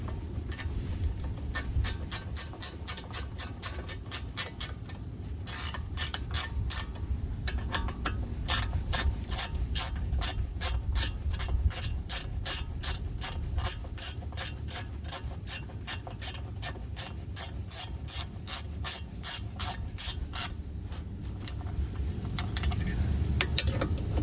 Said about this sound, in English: we use our 9/16 or a 1/2 inch rather, and we tighten our bolts back up